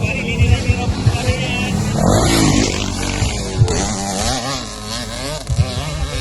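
Motorcycle engines larger than 85cc run and rev loudly throughout at what sounds like a local race event, mixed with car-like engine roar, with people talking over the noise.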